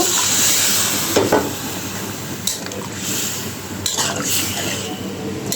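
Water poured into a pan of sautéed papaya sets off a continuous loud sizzle and bubbling, with occasional stirring scrapes throughout, close by.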